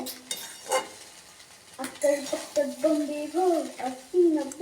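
Rice frying in a pan is stirred with a spatula, soft sizzling under clinks and scrapes against the metal, while a voice talks over the cooking.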